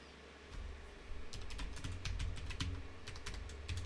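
Computer keyboard keys being typed in an irregular run of close, crisp clicks while a new password is entered, over a low steady background hum.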